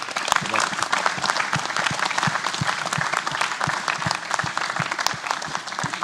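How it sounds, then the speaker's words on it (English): An audience at an evening mentoring event gives a round of applause for Mr. Ivanchik, dense sustained clapping from many hands with sharp individual claps standing out nearby, steady for several seconds. "we might give him a round of applause"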